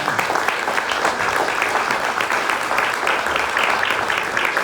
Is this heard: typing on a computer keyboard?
no